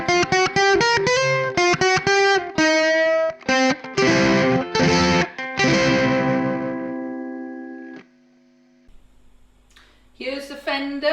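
Ukulele played through an amplifier with a heavy metal distortion effect, a rapid run of buzzing, saturated strummed notes and chords followed by a long sustained ringing chord that fades, then a few more chopped notes, loud and close.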